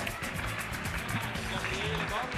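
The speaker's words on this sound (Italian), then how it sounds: "un applauso" Crowd applause at a volleyball club gathering, a continuous, fairly faint patter of many clapping hands with voices and background bustle mixed in.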